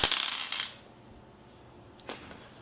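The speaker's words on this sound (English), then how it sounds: "To start off, player 1 rolls the dice." Dice rattle and clatter onto a Settlers of Catan board in a quick burst of bright clicks. They settle, and then one faint tick follows.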